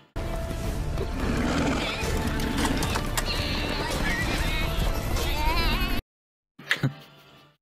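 Several horses neigh and whinny amid busy clopping hooves and commotion in an episode of the animated series The Clone Wars, then a brief silence before one more loud whinny.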